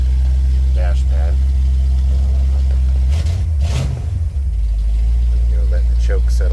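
A restored 1963 Ford Thunderbird engine idles on choke with a steady, deep, close rumble that swells briefly midway, while muffled voices talk over it.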